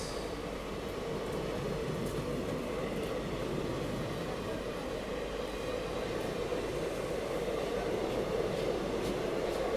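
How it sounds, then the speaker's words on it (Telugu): An express passenger train bound for Palakkad Junction runs near Vadakkanchery station, heard as a steady, loud rumble of wheels and carriages rolling over the rails for the whole stretch, with no talk. "చిటికోర్ని నుండి పాలక్కాడ్ జంక్షన్ వెళ్ళే ఎక్స్ప్రెస్."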